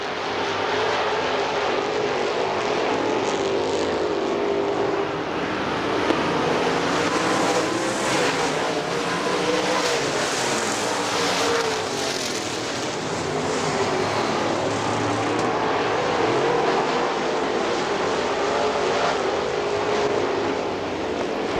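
Late model race cars lapping Butler Motor Speedway, a dense, steady engine roar that stays loud and continuous throughout with no pauses, a field of cars droning past together.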